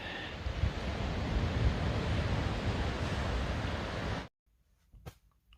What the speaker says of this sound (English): some of the sights and sounds of this 40-mile coastal environment along the Pacific Northwest Trail